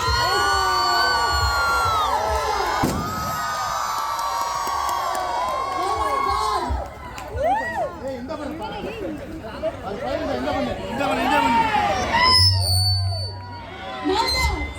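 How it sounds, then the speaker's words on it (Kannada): Fans of Sangeetha Sringeri cheer and shout excitedly, a lively crowd of whoops and yells mixed with children's voices and chatter, loud and close throughout. "so Sangeeta ಅವರಿಗೆ ಜೋರಾದ ಚಪ್ಪಾಳೆ ಅವರಿಗೆ ಸಿಕ್ಕಾಗುತ್ತೆ"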